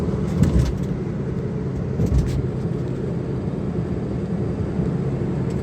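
A Chevrolet Beat with a jerking, juddering fault is driven along the road, its cabin full of a steady low engine and road rumble with a few brief knocks and bumps.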